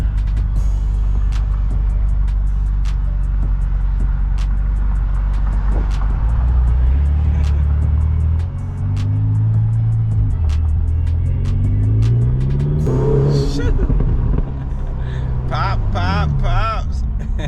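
Ferrari engine driving on a street, a loud close drone that swells and rises in pitch as it revs through gears, with rough, crackly bursts toward the end.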